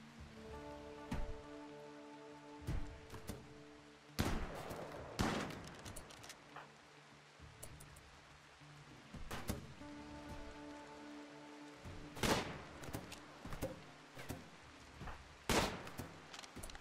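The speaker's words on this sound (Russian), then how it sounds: "С фланга у нее есть возможность провести пару-тройку выстрелов из винтовки" Rifle gunfire in the RimWorld video game comes as sharp, loud cracks, a few single shots spread across a long stretch over a steady patter of in-game rain.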